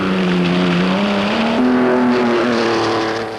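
A Ferrari V12 race car engine, new and being tried out at the Italian Grand Prix in Turin, drones steadily near and loud. Its pitch climbs gradually through about three seconds with a slight step partway, and no voices are heard.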